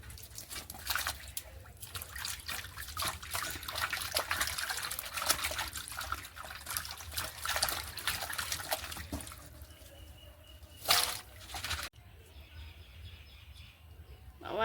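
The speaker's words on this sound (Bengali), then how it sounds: "এত সাদা হয়ে গেছে মাছগুলো তবুও যেন ওনার মনে হচ্ছে এখনো ধোয়া হয়নি" Fish being washed by hand in water, with steady splashing and trickling at moderate level, a brief louder splash near the end, and faint birdsong in the background.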